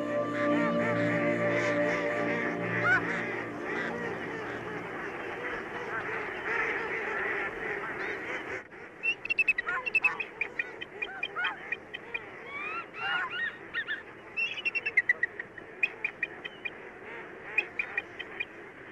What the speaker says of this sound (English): Ducks, geese, and swans, more than 50 species in all,